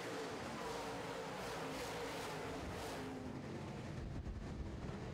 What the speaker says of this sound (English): High horsepower late model racing.